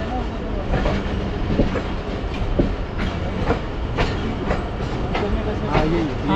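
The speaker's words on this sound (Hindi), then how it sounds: "ट्रेन ही जा रही है" Hazara Express passenger train rolling along the rails in Pakistan, a steady rumble with repeated clickety-clack wheel beats and faint squeals, heard from on board with voices talking in the background.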